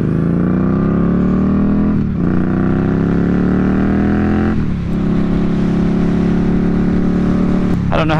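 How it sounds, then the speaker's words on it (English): Exhaust of a 2020 Indian Scout Bobber motorcycle on the road, a loud, steady engine drone rising in pitch through the gears, with brief dips at each shift, recorded close up. "I don't know how the exhaust sounds coming across on the GoPro, but hopefully it's pretty decent"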